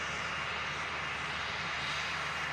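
A Cessna Citation business jet departs Manchester Airport, its engine roar a steady broadband rush that stays loud and even throughout, with no voices.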